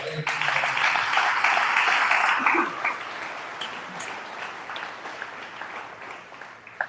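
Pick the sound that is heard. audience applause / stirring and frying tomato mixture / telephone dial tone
audience applause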